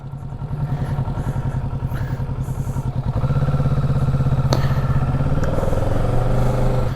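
A 2021 Kawasaki Ninja 650 motorcycle engine runs close and loud with a steady, throbbing parallel-twin beat, then shifts to a slightly higher, stronger drone partway through.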